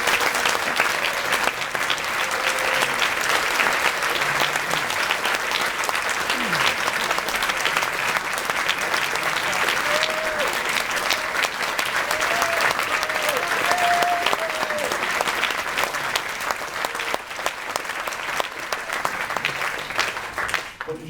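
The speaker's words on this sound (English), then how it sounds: "Could you please put your hands together to welcome onto the stage Sir John Major." A large audience applauds as Sir John Major is welcomed onto the stage, loud dense clapping that carries on steadily for about twenty seconds, with faint whoops and calls rising above it here and there.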